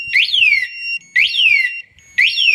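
Run Alarm car anti-theft alarm siren going off at close range, three loud identical rising-and-falling electronic whoops in a regular repeating rhythm, each about a second long with short gaps between, no talking.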